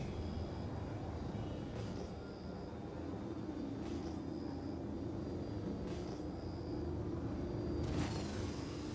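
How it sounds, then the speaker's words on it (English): Spaceship afterburner in the space game Star Citizen, a steady loud engine roar and rumble that holds through the whole stretch with faint high whooshes now and then. "Again, just afterburner here."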